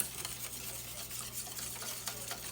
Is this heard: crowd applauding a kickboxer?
no